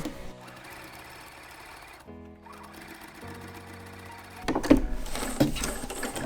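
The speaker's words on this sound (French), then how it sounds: "On va faire une petite couture en zigzag tout autour. Alors, donc c'est parti pour un petit point zigzag." A sewing machine runs a zigzag stitch along fabric for a lunch bag, whirring steadily with brief pauses and a louder, busier burst near the end; no one speaks.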